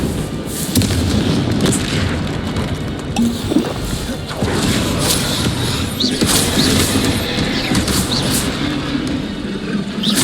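Explosive Confringo spell blasts during Hogwarts Legacy combat, a steady loud roar of booming impacts and crashes running through the whole passage with dense, layered game effects.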